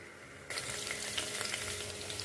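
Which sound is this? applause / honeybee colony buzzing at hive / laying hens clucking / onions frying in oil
onions frying in oil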